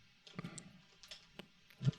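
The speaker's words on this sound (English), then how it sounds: "I'm typing, probably you're listening" Scattered soft key clicks tap irregularly at close range, a few quiet keystrokes with short pauses between them.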